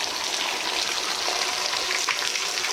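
Water pours continuously from a very old stone spring in the hills of Chamoli district, Uttarakhand, a steady close gushing splash with no voices.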